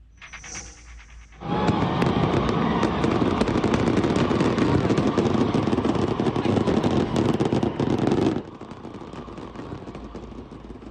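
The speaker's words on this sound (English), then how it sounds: "You see how those fireworks flew off into the stands, injuring people?" Fourth of July fireworks going off and flying into the stands, heard as a dense, loud burst of crackling bangs lasting several seconds before it cuts back to a quieter background.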